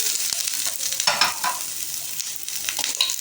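Seekh kababs and vegetables frying in a pan, a steady bright sizzle with stirring scrapes and small clatters, close and continuous.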